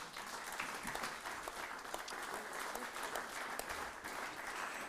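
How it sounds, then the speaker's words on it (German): Audience at an artwork unveiling applauding steadily, a dense, even clapping from a crowd that stays fairly faint throughout. "herzlichen Applaus"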